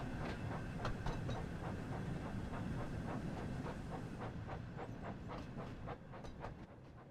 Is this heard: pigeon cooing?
no